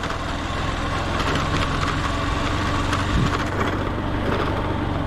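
A motorbike engine idles steadily near Talberiya Dam, a low continuous rumble that holds close and even throughout, with no talk over it.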